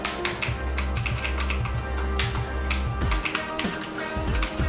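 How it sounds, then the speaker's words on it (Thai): Keys clatter steadily on a Corsair Strafe mechanical keyboard while an email is typed, with quick uneven bursts of clicks and brief pauses between runs of keystrokes, close and fairly clear against a low background hum. "กดปุ่มอัดแล้วก็กดปุ่มพิมพ์เข้าไปนะครับ สมมติผมเอาเป็นอีเมลแล้วกันนะครับ พิมพ์"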